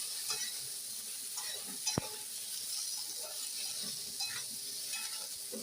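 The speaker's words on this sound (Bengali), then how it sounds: "একটা শালগম দিয়ে দিচ্ছি, এবার ভেজে নেবো হালকা করে" Turnip frying lightly in oil in a pan gives a steady close sizzle, with occasional stirring scrapes and one sharp clack from a utensil against the pan.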